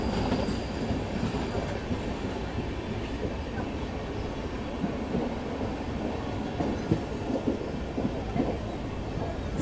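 The 16057 Sapthagiri Express runs on rails with a steady, loud rumble and faint clickety-clack of wheels, heard close from on board throughout.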